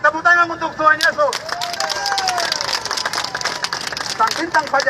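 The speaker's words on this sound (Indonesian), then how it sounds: "Tepuk tangan untuk Tuhan Yesus." Church-style audience breaking into clapping during a political education talk, a steady burst of many hands lasting a few seconds between stretches of a man's speech.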